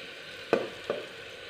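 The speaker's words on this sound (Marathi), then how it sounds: "आता ह्यात आपण हे मटण घालणार आहोत।" Mutton hits a hot pan of spiced oil with Kashmiri chili, giving two short, close sizzling bursts about half a second apart over a quiet background.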